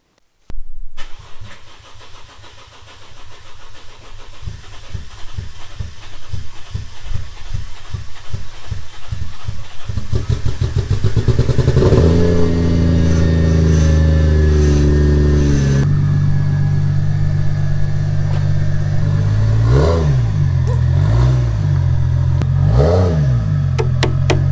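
Toyota Soarer with a 400bhp 1JZ engine cranking over and firing up, then revving in rising and falling bursts before settling into a loud, steady idle close by.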